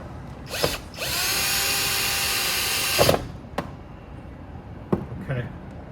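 A power driver runs in a sustained burst of about two seconds, then gives a few short clicks and taps while tightening the bolts of a window AC bracket support arm.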